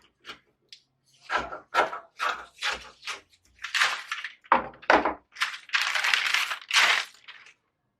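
Scissors cutting a paper corset pattern, a close series of about a dozen sharp crisp snips in an uneven rhythm, some quick and clipped, others longer and rustling, with silence between.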